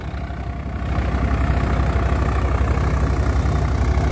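A new Swaraj tractor engine runs steadily, a loud, close, low throbbing rumble that swells in the first second and then holds even, with no talking.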